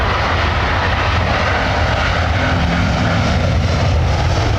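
A loud, steady roar of a fixed-wing aircraft at full power on its takeoff roll down a Heathrow runway, broadband and continuous for the whole span with no voices.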